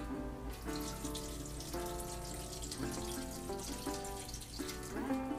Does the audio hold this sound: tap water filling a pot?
yes